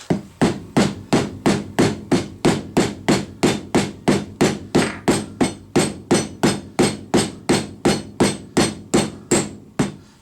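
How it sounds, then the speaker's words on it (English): Steady, rhythmic rubber mallet blows strike a Volvo brake caliper piston about twice per second, over twenty sharp, close hits in a row with no talking. "I was using a rubber-faced mallet hammer so that I didn't dent or damage the top here."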